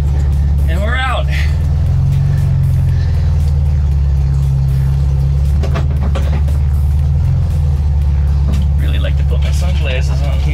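A VW Thing with a damaged frame tunnel backs up and manoeuvres out of a tight parking spot, its engine a steady, loud low rumble throughout while someone talks over it.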